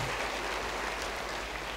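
Church congregation applauding together, a dense, steady wash of clapping that fills the space evenly for the whole stretch, with no voices rising above it.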